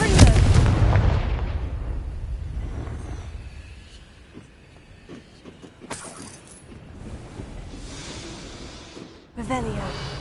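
In the Hogwarts video game, a Confringo spell explosion booms loudly right at the start and fades into a long rumbling decay, followed by quieter clatter and a second sharper burst near the end.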